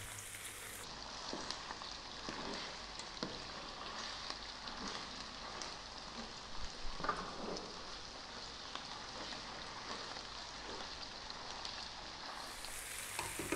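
Ground beef for aloo keema sizzles steadily in a hot pan and is stirred now and then, a soft continuous crackle with occasional scraping, fairly quiet and with no talking.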